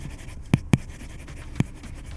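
A Huawei M-Pencil stylus strikes a paper-matte tablet screen, producing three sharp tapping strokes, two close together then one after a pause, over a quiet background.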